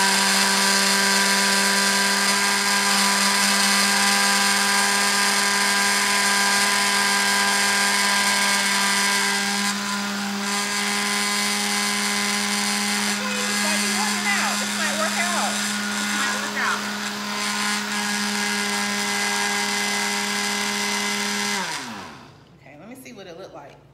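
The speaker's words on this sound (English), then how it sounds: "So we are going to blend." An electric blender purees cut pears with water, sugar and lime juice, running as a loud, steady motor whine for about twenty seconds before winding down at the end.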